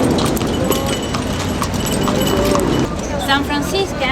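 A horse-drawn carriage clip-clops through the streets of Old Havana, Cuba, with steady hoof beats running under a constant wash of street noise and talking voices throughout.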